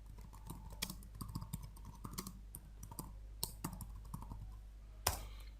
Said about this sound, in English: So I can go ahead and type that.